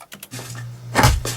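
A short, layered punch impact sound effect for a film scene: a few light rustles and taps, then a heavy, punchy hit with a low thump and a quick follow-up.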